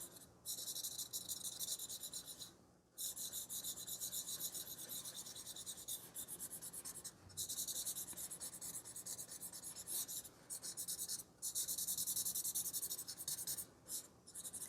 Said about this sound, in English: now I'm going to blend this with the larger blending stump